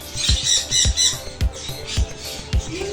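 A large pet bird gives a series of short, sharp squawks in an irregular rhythm, close and fairly loud, with soft thumps between calls.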